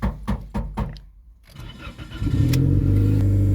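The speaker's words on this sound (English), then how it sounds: "now you can start your vehicle" A car engine starts after a few mechanical clicks and a short pause, the starter cranking briefly before the engine catches and settles into a steady, loud idle.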